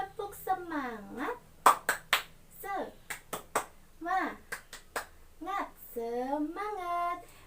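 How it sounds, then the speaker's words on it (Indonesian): A class in a microteaching mathematics lesson does a rhythmic spirit clap, sharp hand claps in quick patterned bursts alternating with chanted children's voices, close and clear. "Nah, coba kita tepuk semangat terlebih dahulu. Tepuk semangat."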